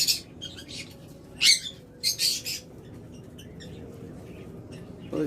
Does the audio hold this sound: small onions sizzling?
no